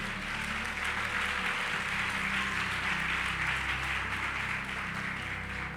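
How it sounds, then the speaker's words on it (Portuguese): Church congregation applauding during a sermon, a dense, steady wash of clapping that holds for several seconds, fairly loud and even, with music or a low drone underneath. "Dá um forte aplauso ao Senhor."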